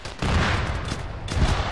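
Bursts of BMP autocannon fire in a military shooter game, loud close rapid rounds in two clusters with a brief gap between.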